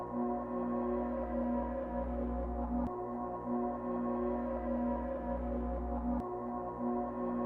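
A reversed melody loop from FL Studio plays steadily on its own with sustained tonal layers and no voices, two sharp breaks marking where the loop restarts.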